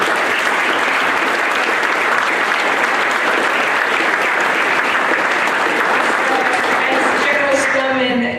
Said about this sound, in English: if you join me in a round of applause for the front office and all the team